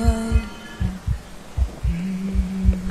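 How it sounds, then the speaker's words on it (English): A heartbeat from the horror video game Among the Sleep throbs in steady, low double pulses over a droning hum, loud and close, repeating about every half second. "Heart beating."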